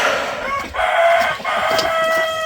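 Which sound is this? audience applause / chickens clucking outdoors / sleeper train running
chickens clucking outdoors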